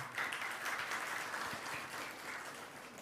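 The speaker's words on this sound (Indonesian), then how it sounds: "tepuk tangan untuk beliau." Continuous applause from a large audience at an official land certificate ceremony in Bali, a steady crowd of clapping hands heard from some distance, with a few thumps beneath.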